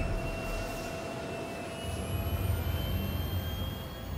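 Spaceship engines in the Star Citizen video game run as a steady, even whirring drone with faint high whine, holding constant across the whole stretch and swelling slightly toward the end, with no voices.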